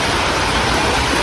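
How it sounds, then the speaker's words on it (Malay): Steady, dense rain hiss fills the air in a broad wash of noise, loud and continuous with no pauses or voices. "Hujan guys."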